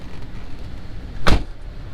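A Chevrolet Tahoe door shuts with a single solid thump over a steady low interior rumble, close by and brief.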